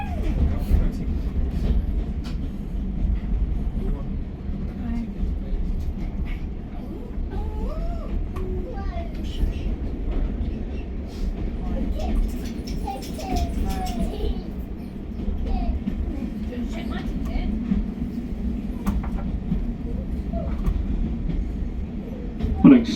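Heritage train on the Spa Valley Railway running alongside the mainline toward Eridge, a steady low rumble and rolling drone heard from aboard, with faint squeals and clanks and some talk in the background.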